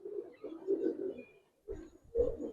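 Pigeons, high-flyer Budapest birds kept in a loft, giving soft low coos in two short bursts, close by, with no talking over them.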